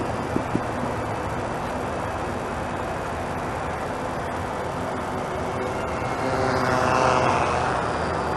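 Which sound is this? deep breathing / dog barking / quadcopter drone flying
quadcopter drone flying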